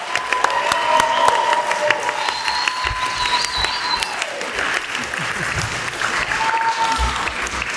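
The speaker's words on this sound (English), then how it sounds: "So, can we get a big round of applause for Shane, Ashley, Arcane Anthems, Rebecca," A convention panel audience at San Diego Comic-Con 2024 breaks into applause with some cheering, steady clapping from a packed room while a voice carries over it.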